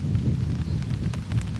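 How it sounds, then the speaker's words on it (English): A rain shower falls outdoors while fishing, a close, steady hiss of drops with low rumbling and scattered tapping on nearby surfaces, unbroken by talk. "All I catch is raindrops."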